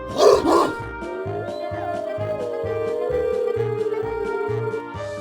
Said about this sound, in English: This is a wolf. Nice wolf.